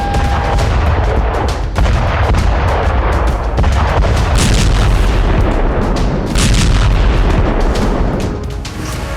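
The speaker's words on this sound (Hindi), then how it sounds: "यहां रूसी सेना अंधाधुंध मिसाइल दाग रही है।" Russian artillery and missile fire in the war in Ukraine around Bakhmut, a loud, dense barrage of booms and sharp blasts overlapping continuously with no pause.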